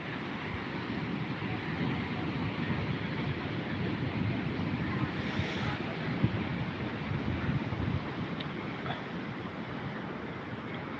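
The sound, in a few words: ocean waves on the seashore in the morning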